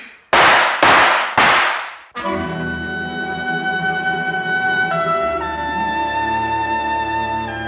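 Three sharp, loud cracks in quick succession ring out, followed by a sustained, steady tonal ringing drone that holds and shifts pitch slightly.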